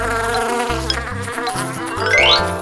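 A buzzing bee drones steadily over light cheerful music, ending with a quick rising whistle-like sweep.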